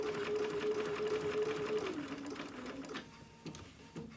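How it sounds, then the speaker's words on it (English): A sewing machine stitches a dog outfit with black thread, a steady close motor whir running continuously before slowing and stopping near the end, followed by a few small clicks. "I already had the black loaded, and so I'm just gonna sew with that."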